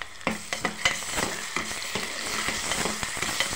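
Onions and ginger garlic paste sizzle in a pan for an egg and drumstick curry, a steady fry broken by repeated scraping stirs of the spoon, close and clear with no talking.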